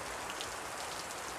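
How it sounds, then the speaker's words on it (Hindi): Steady rain falls in a village, a dense, even hiss of drops on surfaces with no voices heard. "हमारे इधर अच्छे से बारिश पानी गिर रहा है"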